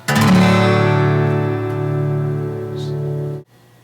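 A single guitar chord strummed in open D tuning rings out loudly and sustains, slowly fading before being cut off, with no talking.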